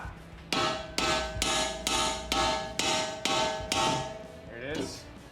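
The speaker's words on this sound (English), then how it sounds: "All right, I'm gonna hit that with a hammer" A hammer striking a car part, apparently on a Dodge Challenger R/T being refurbished: seven sharp metallic blows at an even rhythm of about one per second, loud and close, ringing briefly after each hit.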